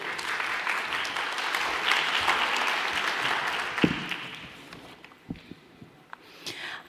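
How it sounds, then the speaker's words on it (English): An audience at an international library conference applauds steadily for about four seconds. The clapping then thins to a few scattered claps and footsteps as it fades out. "So if you can give a round of applause to Ellie Kim."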